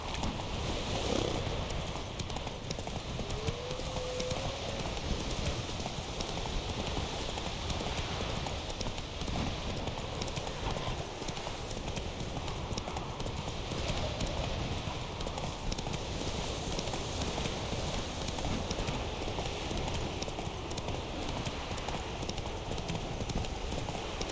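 Roach, the horse in The Witcher 3 video game, gallops with a continuous rhythmic drumming of hooves over the ground that holds steady throughout.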